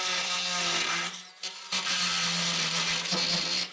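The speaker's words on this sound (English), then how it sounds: "That's a good use for a multi-tool with a metal cutting blade in it." A loud oscillating multi-tool with a metal cutting blade grinds through nail heads in sustained bursts, pausing briefly once before cutting again, close by.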